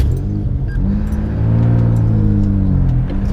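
Turbocharged Honda Accord with a J32 V6 engine revving, a loud close mid-pitched engine drone that swells and holds steady as boost builds from inside the car.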